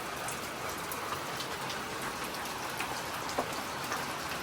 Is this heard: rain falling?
yes